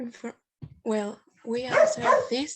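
A dog barks and whimpers during an online class with oral presentations, sharp harmonic yelps rising close by and mixed in with people talking.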